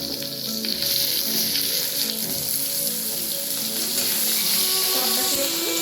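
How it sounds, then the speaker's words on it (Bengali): Pointed gourd (potol) fries in hot oil after potatoes, giving a steady, close sizzle and crackle that runs throughout without any voices. "ওই তেলের মধ্যে পটলটাও ভেজে নেব।"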